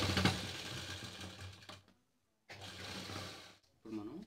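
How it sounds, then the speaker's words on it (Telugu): A sewing machine stitches a dress collar in short runs, a rapid mechanical whir that stops for a moment of silence before starting again, fairly quiet throughout. "అది మనం కుట్టుకోవాలి."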